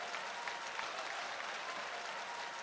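Audience applause at a poetry recital event in Dubai, steady dense clapping from a crowd throughout, fairly faint and even.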